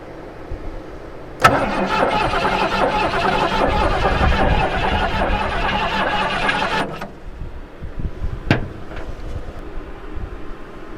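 A 1973 Ford Mustang Mach 1 cranks after years unused, the starter grinding steadily for about five seconds before cutting off, followed by a sharp clank and a quiet idle-less pause; close and fairly loud.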